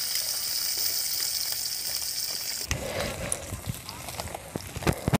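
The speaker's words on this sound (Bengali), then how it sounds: "এক পিঠ ভাজা হয়ে গেছে, অপর পিঠ ভেজে নেব উল্টে দিলাম" Parshe fish sizzles steadily in hot oil, then the pieces are flipped, bringing a burst of clattering and spattering before the frying settles into a choppier, uneven crackle.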